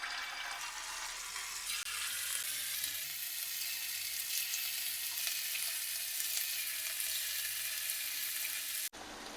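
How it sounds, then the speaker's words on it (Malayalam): Chicken kebab pieces fry in hot sunflower oil in a kadai on a stove, giving a loud, steady, dense sizzle that runs unbroken for nine seconds and cuts off briefly near the end, with no voices. "ചിക്കൻ എല്ലാം ഫ്രൈ ചെയ്യാൻ വേണ്ടിയിട്ട് ഒരു കടായി സ്റ്റൗവിൽ വെച്ചിട്ടുണ്ട്."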